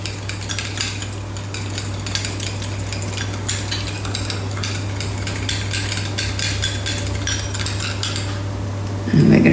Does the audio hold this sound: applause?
no